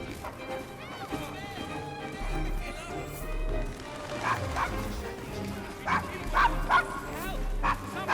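Dog barking and whimpering in the Assassin's Creed Syndicate video game, with repeated yips and bow-wow barks growing louder toward the end, heard under game dialogue and ambient street noise.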